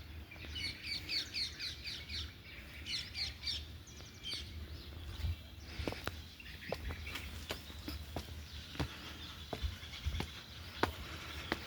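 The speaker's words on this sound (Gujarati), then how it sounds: "મોરલા તો આ બાજુ આવી ગયા છે. અહીંયા ઉડી રહ્યા છે મોરલા." Peacocks calling around a 700-year-old temple in Wankaner, with bursts of high chirping and calls early on, then a breezy open-air wash broken by sharp intermittent clicks and knocks.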